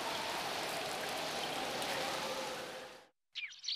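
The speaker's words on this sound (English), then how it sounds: "It was raining, and there was an awful wind." Steady broadband rain pours down in a cartoon scene for about three seconds, cutting to sudden silence before a brief, sharp burst of other sound at the end.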